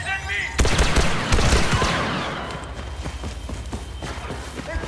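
Blaster gunfire in the Star Wars Battlefront 2 video game, dense rapid bursts of loud shots over a busy battle din, with heavy impacts early on.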